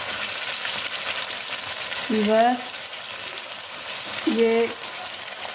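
Onions and chicken frying together in a pan for chicken karahi, with a steady sizzle throughout and two short clinks of a utensil against the pan; a voice speaks briefly.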